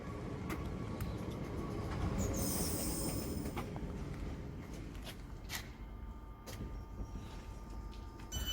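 A Southeastern train departs a suburban station, its wheels rumbling loudly close by, with squealing and clattering along the rails as the carriages roll past, no talking.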